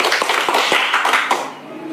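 Audience clapping in scattered, uneven bursts at an Indonesian religious lecture, crisp hand claps spread over two seconds with a voice faintly present beneath.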